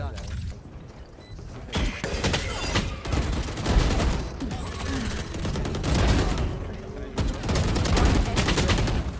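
Rapid gunfire bursts in a competitive shooter video game, loud repeated shots in clusters with mechanical clicks, a voice talking over the action.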